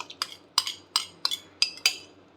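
A spoon clinks against a bowl while stirring eggless Christmas cake batter with dried fruit, milk and oil, six or seven sharp, evenly spaced taps close up in a quiet kitchen.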